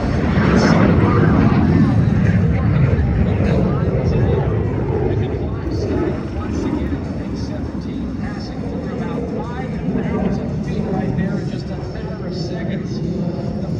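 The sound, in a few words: Russian jet flying at an air show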